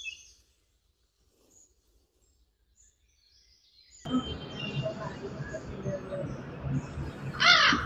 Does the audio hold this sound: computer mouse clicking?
no